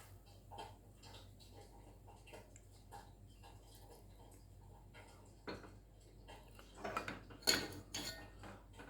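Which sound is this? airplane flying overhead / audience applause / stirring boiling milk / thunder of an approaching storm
stirring boiling milk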